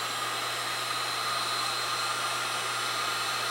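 A heat gun blows a steady, loud, even hiss of hot air while shrinking heat shrink tubing over repaired leads on a 42 watt CFL bulb, with no voices.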